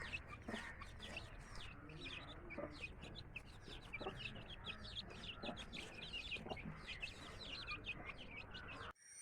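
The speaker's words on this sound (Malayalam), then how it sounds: "അസീൽ ഇനത്തിൽപ്പെട്ട കോഴിയാണ് പോരി കോഴി എന്നൊക്കെ പറയുന്ന ഒരു കോഴിയാണ്" Aseel chicks cluck and peep continuously with a dense, rapid rhythm, quiet and close, set against faint background hum, with no talk.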